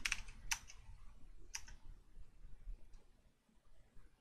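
A few quick keystrokes tapped on a computer keyboard, faint and close, in brief clusters separated by quiet pauses.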